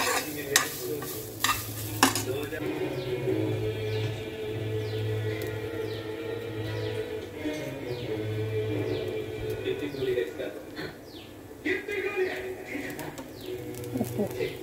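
Sprouts stir-fried in a pan make a light, continuous sizzle with scraping stirs, while pigeons coo in the background and a voice speaks at times.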